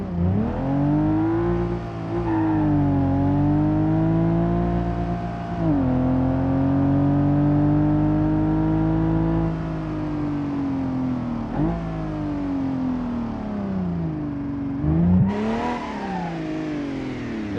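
A modified car in BeamNG.drive, its engine note reminiscent of a BMW, revs and holds high, steady, harmonic-rich tones for a long stretch, with several dips and climbs as throttle changes, loud and continuous with no talk.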